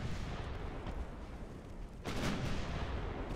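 Naval gunfire from 8-inch shells in the warship game Ultimate Admiral: Dreadnoughts, a sustained rumbling barrage with a sharper boom near the middle, loud and continuous throughout.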